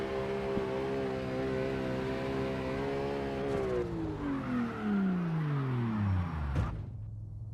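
A car engine in the CarX Drift racing video game, driven to the end of a lap in fourth gear. It holds a loud, steady tone, then winds down in pitch as the car slows, with no talking.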